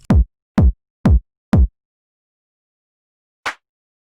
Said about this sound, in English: Then create a simple tech house beat like this one with just a kick,